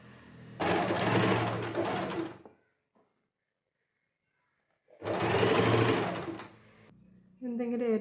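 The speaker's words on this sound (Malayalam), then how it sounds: "ജോയിൻ്റ് ചെയ്ത് വെച്ചിട്ട് ഒരു സ്റ്റിച്ച് ആദ്യം കൊടുക്കുക മുകളിൽ നിന്ന് താഴേക്ക്" A sewing machine stitches a frock seam in two loud, steady runs with a pause between them, and a voice speaks briefly near the end.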